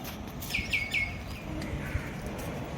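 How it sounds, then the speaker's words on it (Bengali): A pair of common mynas calls outdoors beside a busy road, with a few short, bright chirps close together near the start over a constant background rumble, and no talking. "জোড়া শালিক দেখুন"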